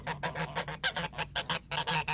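Excited male geese honk in a rapid burst, about a dozen loud, nasal calls in quick uneven succession, close by with a faint low hum underneath.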